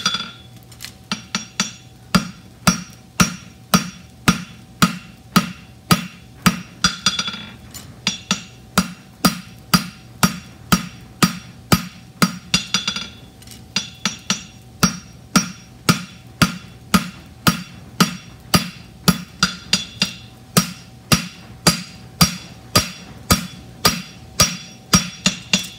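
Hot steel is hammered flat while forging a horseshoe, a long run of sharp ringing hammer blows in a steady, even rhythm, each strike loud and close with a bright metallic ring.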